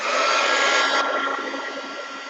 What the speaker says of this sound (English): I'm going to dry this a little bit.